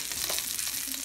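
Gluten-free chicken nuggets fry in a pan over medium heat, giving off a steady, close hiss of sizzling oil with no pauses.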